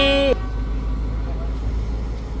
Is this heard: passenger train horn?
yes